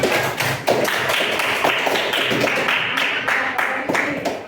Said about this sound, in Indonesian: Oke, tepuk tangan untuk kelompok 1.